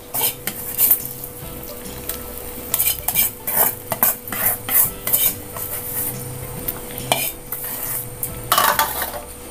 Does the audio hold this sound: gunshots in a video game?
no